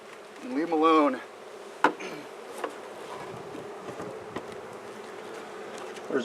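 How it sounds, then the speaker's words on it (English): Bees buzz steadily around a Borntrager hive, one close insect whining loudly past early on, then a thinner hum continuing under occasional knocks and taps. "There's way more bees in there than before, way more."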